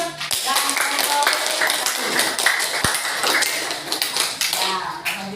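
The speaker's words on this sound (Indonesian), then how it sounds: "Tepuk tangan untuk Fatir" Elementary schoolchildren clapping for a classmate in a classroom, a scattered patter of hands with sharp taps and knocks, mixed with a teacher's voice speaking over it.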